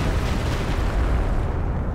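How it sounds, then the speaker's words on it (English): Very large explosion in the Company of Heroes 2 war video game, a dense, continuous roaring blast with heavy low rumble filling the whole stretch at steady loudness, with no talk over it. "Very large explosion."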